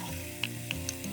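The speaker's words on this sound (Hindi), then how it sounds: "इन बैंगनों को लो फ्लेम पे 2 से 3 मिनट भून लेंगे।" Mashed brinjal frying in oil with tomato in a pan over a low flame, a faint, soft sizzle broken by three small ticking taps of a spoon, brief and quiet.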